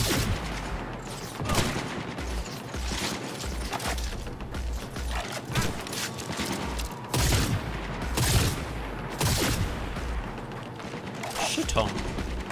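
Sniper fire in Cyberpunk 2077 comes as repeated loud gunshot bursts with mechanical clatter at irregular intervals, dense and close throughout.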